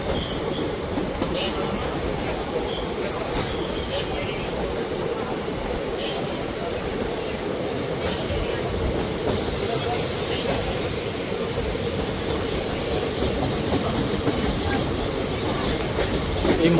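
Ganadevta Express pulling out of Mallarpur station, a steady rumble of rail cars with faint clickety-clack running unbroken throughout, with a voice speaking over the train noise.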